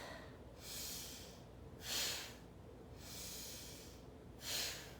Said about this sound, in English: we're gonna exhale with force